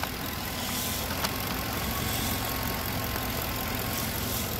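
A Crown Victoria with a D8 engine runs at a steady idle, a smooth, even drone with no knocking or sputter, close by and continuous with no one talking.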